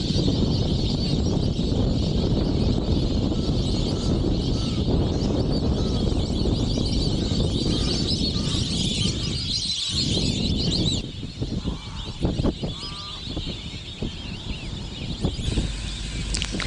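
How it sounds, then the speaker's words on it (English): Flocks of whistling ducks and other birds fly over a Tanzanian safari landscape, a dense, continuous chorus of calls and whistles mixed with wind rush that thins out toward the end. "Whistling duck and others in flight, a really impressive sight and sound."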